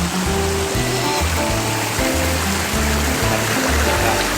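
Wang Kan Lueang waterfall, running muddy after overnight rain, pours as a loud, continuous rushing wash that stays steady throughout.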